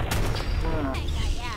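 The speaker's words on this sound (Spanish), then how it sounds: "el disparo láser." A laser gunshot fires in Fallout 4, a sharp burst over steady game noise with faint, murky talk underneath.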